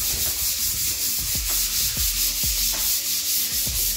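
Sandpaper rubs across a wall to smooth it before painting, in rhythmic back-and-forth strokes about twice a second, close and steady with no talk.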